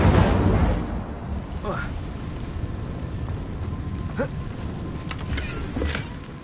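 An Incendio fire spell is cast in Hogwarts Legacy. A loud whooshing burst of flame opens the clip and settles into a steady roaring, crackling fire, with a few small sharp pops, and brief speech is heard.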